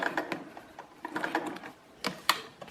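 A sewing machine stitches along a zip, its close mechanical whirring coming in short uneven bursts and pauses, with clicks of the needle mechanism.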